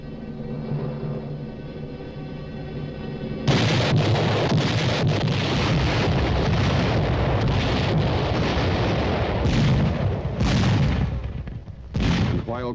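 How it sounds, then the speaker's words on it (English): Artillery fire from a giant railway cannon mounted on flat cars, a steady low rumble followed by a series of repeated heavy booming blasts, loud and close with no talking. "while he could hurl shells distances never before dreamed of, the giant cannon mounted on flat cars must be restricted to the rails that carried it"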